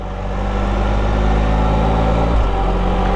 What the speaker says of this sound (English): I keep forgetting to upshift, and you can hear the engine kind of going.